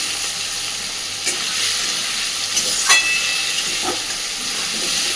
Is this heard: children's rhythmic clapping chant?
no